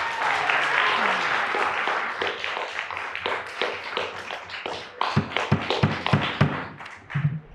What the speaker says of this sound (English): No public displays of applause or things like that.